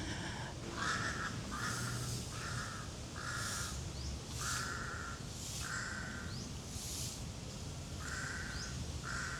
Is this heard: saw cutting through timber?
no